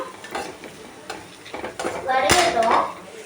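Chicken gravy ingredients sautéing in a pan for a Chettinad recipe, with a spoon stirring and scraping against the metal in irregular strokes over a soft background sizzle, close and moderately loud.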